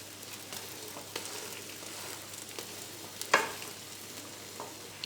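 Flatbread with egg fries in a pan, giving a soft continuous sizzle with small crackles and one sharper pop partway through.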